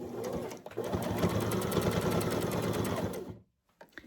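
A sewing machine runs in a steady, fast mechanical whir while stitching a patch onto a stretchy pant leg, stopping abruptly near the end, followed by a few faint handling clicks in the quiet.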